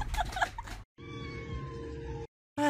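A cat meows in two drawn-out, wavering calls separated by a short silence, close and fairly loud, with a third call beginning at the end; no one speaks.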